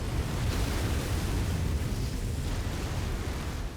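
A weapons depot explodes in the MechWarrior 5 video game, a loud, steady roaring rumble of blast and debris that holds without a break, no talking.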